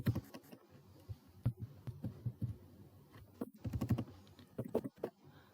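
Python code is typed on a computer keyboard, with close, irregular keystroke clicks coming in quick clusters separated by short pauses.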